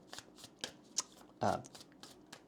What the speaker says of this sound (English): We'll pull some oracle cards, and then we'll also pull some tarot cards for you here